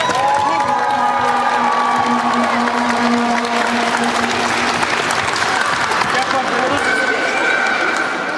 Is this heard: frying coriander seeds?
no